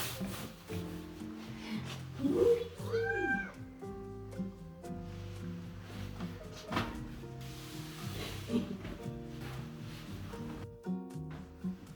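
Mitzi the cat gives a few rising, drawn-out meows close by while fresh linen sheets are put on a bed. Soft tonal music plays underneath with light rustling.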